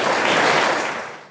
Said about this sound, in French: Veuillez applaudir Jonathan